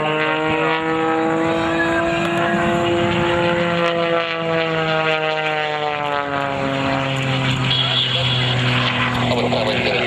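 A propeller aerobatic airplane works through a double hammerhead, its engine droning loud and steady with harmonics sweeping downward as the pitch and power change, while a voice talks over the sound throughout.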